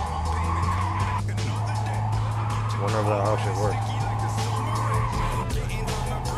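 A car in the video game Cyberpunk 2077 skids with loud, sustained tire squeal over a steady engine drone while characters talk over it.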